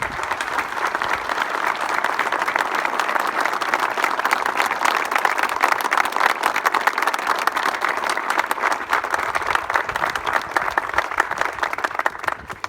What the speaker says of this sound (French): Je propose de les applaudir